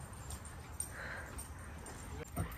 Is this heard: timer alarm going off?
no